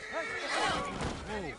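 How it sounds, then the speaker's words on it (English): A horse gives a loud whinny with a rising and falling quaver, close by, with a voice talking over it. "Is that his horse?"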